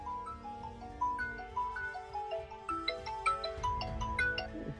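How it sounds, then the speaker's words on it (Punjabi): Melodic phone ringtone for an incoming call from a doctor, a bright repeating electronic tune playing steadily and fairly close for several seconds, with no one speaking over it, in a Punjabi short drama. "ਆ ਡਾਕਟਰ ਦਾ ਫੋਨ ਹੈ"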